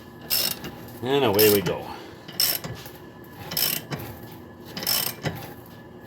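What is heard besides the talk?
ratchet turning a 7/8 socket, pressing in truck ball joint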